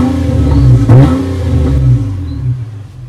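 A 2010 Nissan Maxima with a 3.5L V6 engine running and briefly revving, a close, smooth engine sound that swells and settles over a few seconds with no talking.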